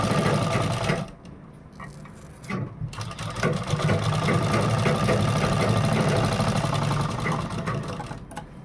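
A sewing machine runs tacking stitches on a boat-neck designer blouse, starting with a short burst, pausing, then whirring steadily and closely for several seconds with a rapid mechanical chatter.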